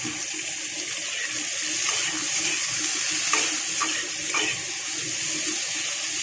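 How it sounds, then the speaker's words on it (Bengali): Vegetables fry in oil in a wok, making a loud, steady sizzling hiss with a few sharper pops, close by and with no talking. "এই সবজিগুলো যতক্ষণে ভাজা হচ্ছে"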